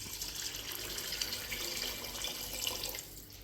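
Water poured into a pot of mutton pulao: a continuous soft splashing stream of liquid, fairly quiet and steady, trailing off slightly at the end with no voices.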